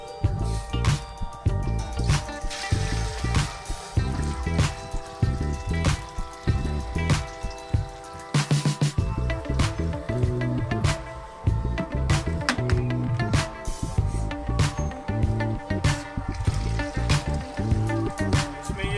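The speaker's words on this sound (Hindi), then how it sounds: "तो अभी इसमें पानी हम डाल रहे हैं।" Water pours and trickles steadily into a water filter for a long stretch, with gurgling, irregular splashes and dripping throughout.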